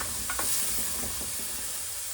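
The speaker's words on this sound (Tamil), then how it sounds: "வெள்ளை வெங்காயம் போட்டு, கருவேப்பிலையெல்லாம் போட்டு இப்படி இதுக்குள்ளே வதக்க வேணும்." White onion and curry leaves sauté in hot oil for a couple of seconds, a dense close sizzle with a few soft scraping stirs and no voices.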